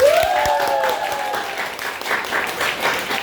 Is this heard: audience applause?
yes